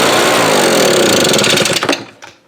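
A gas leaf blower with a fuel problem fires up with a loud buzzing two-stroke whine, then sputters through a few uneven pulses and dies out within about two seconds.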